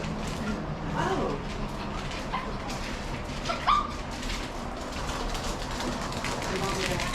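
At a garage yard sale, a dog gives a few short barks and whimpering yips, one near the start and one midway. People chat steadily over and between them.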